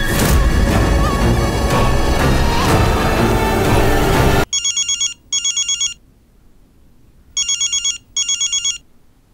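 After a burst of loud noisy music, a telephone rings on an outgoing call in two pairs of double electronic trills separated by silence, clear and close.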